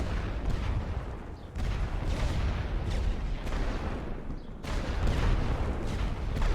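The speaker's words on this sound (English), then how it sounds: "We're going to wipe them out with artillery." Booming artillery barrages in the World War I strategy game The Great War: Western Front, a dense continuous roar of distant blasts with a few sharp drops and swells.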